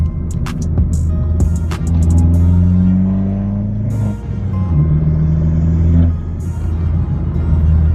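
A Vauxhall VXR with a loud modified exhaust pulls hard in first gear, a deep steady engine drone rising in pitch over several seconds, with a brief dip partway through, loud and close with no talk.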